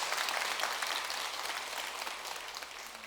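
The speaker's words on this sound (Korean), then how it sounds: "하실라면 박수 한번 쳐세요" A seated audience at a Buddhist dharma talk in a temple claps together in a short burst, dense and fairly loud at first and then gradually thinning as it fades out.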